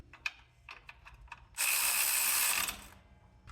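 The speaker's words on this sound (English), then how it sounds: "Since I have it, I'm going to go ahead and use my battery-powered ratchet." A battery-powered ratchet tightening an alternator mounting bolt on a 1994 Chevy K1500, first a few light clicks, then a loud whirring burst of about a second and a half, close up.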